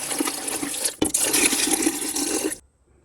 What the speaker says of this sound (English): So now I'm going to fill this up with water just above